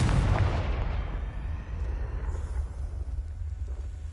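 A blasting spell explosion in Hogwarts Legacy, one loud boom that bursts at the start and rumbles away into a low, decaying roar.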